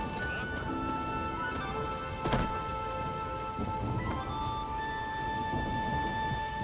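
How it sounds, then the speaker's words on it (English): Rain and a thunderstorm in The Witcher 3 video game: steady rainfall hisses continuously, with a rumble of thunder midway and faint tonal game music underneath. "Storm, damn it."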